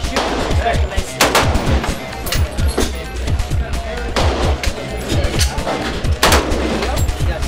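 Gunshots at a shooting range fired by a novice shooter, several sharp loud reports spaced irregularly over a steady background, with an instructor's voice talking between shots.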